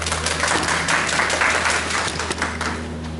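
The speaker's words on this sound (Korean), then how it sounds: "힘차게 박수로 모시겠습니다." People at a press conference outside Gumi City Hall clap to welcome a speaker, a short burst of applause over a steady low electrical hum.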